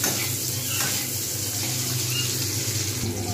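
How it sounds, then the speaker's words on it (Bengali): Onions frying in a kadai for a Bengali rohu fish curry with radish, giving a steady, close hiss and sizzle with a low rumble underneath, continuous throughout with no talking. "যেহেতু হয়ে গেছে সেহেতু আমি এবারে পেঁয়াজগুলো সুন্দর করে ভেজে নেব"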